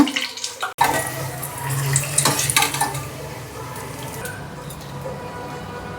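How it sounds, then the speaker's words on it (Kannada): Green chillies spit and crackle in hot oil in a home kitchen while vada pav is made, a close bright sizzle with clinks of a pan and utensils, no voices. "ಇದರಲ್ಲಿ ಸ್ವಲ್ಪ ಮೆಣಸಿನ್ಕಾಯಿ ಫ್ರೈ ಮಾಡ್ಕೊಂಡ್ಬಿಡೋಣ"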